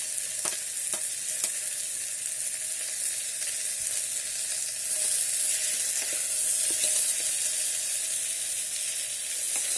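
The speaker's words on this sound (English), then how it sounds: "Now fry this for 2 to 3 minutes with the onion, okay?" Vegetables and onion frying in an electric kettle, a steady bright sizzle with occasional soft stirring taps, close and continuous with no talking.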